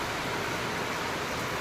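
Steady, dense hiss of rain falling outdoors, loud and unbroken across the whole stretch with no distinct drops or pauses.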